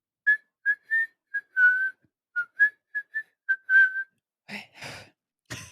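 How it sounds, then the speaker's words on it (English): A series of short, clear whistled notes, some sliding or held, followed by a few breathy noisy bursts near the end. "At exactly 3:03, we heard the whistling."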